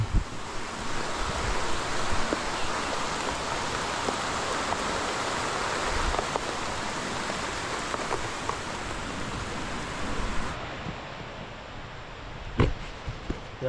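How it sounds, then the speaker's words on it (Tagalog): Steady rain pours down outdoors on a ginger-planting plot, a dense continuous hiss with gusts of wind, a few sharp knocks near the end and no talk. "Aba, yan ang ulan ba naman."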